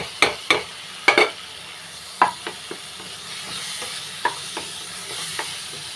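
Grated coconut stirred into sautéed banana in a pan, a series of sharp spatula scrapes and knocks at uneven intervals over a low, soft sizzle, close by.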